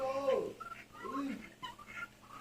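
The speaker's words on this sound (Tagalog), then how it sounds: "Ito naman yung mga pabo." Seven domestic turkeys calling in a farmyard, a few gobbling, warbling calls rising and falling near the listener, with someone speaking over them.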